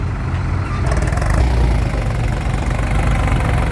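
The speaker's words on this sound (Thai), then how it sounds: "กำลังรถไถมาเกรดอ่ะ" A tractor engine idles and rumbles close by as it arrives to grade a fishing pond, a loud steady low chugging with a slight knocking texture that continues without a break.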